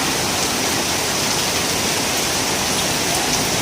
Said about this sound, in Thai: มีทั้งฟ้าทั้ง ฝนนะครับผมตกสวยงามมาก